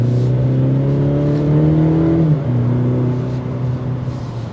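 A 2023 Cadillac CT4 Sport accelerating on a test drive, its engine note rising steadily, dipping briefly at a gear change, then climbing again, loud and close from inside the car.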